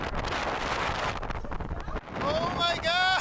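Strong, cold wind gusts buffet the microphone at an old stone monument tower in Boonsboro, Maryland, roaring and rumbling loudly; a voice cries out over the gusts near the end.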